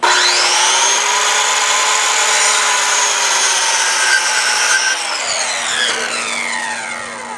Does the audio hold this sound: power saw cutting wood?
yes